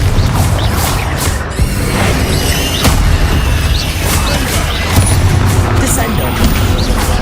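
Booming Bombarda explosion spells from Hogwarts Legacy combat, dense blasts and crashes over a loud rumbling battle din, with voices shouting spell names.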